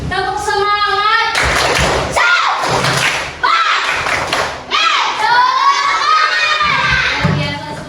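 Children in a classroom do a rhythmic spirit clap together, loud group claps and thumps mixed with children shouting and cheering close by, filling the whole stretch with a few brief pauses.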